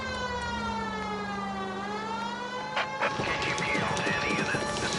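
Police car siren in the video game LA Noire, a loud sustained wailing tone that sweeps steadily, then breaks into a burst of engine and clattering traffic noise as the siren continues.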